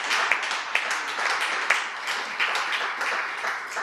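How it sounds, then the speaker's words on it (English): Sustained round of applause from an audience at a holistic yoga event, steady dense clapping with a few sharper claps standing out throughout. "Can we have a round of applause for all those people who did that nishkam karma for that?"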